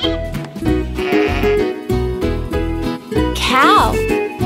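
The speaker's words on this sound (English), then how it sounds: "A baby sheep is called a lamb." Sheep bleating in a preschool children's song, several quavering bleats repeated over a bouncy musical backing with a steady beat, loud and close.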